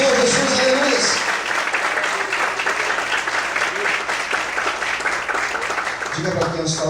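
A church congregation applauds loudly and steadily in praise during an evening worship service, the dense clapping filling the whole stretch while a voice speaks and music plays over it at the start and end.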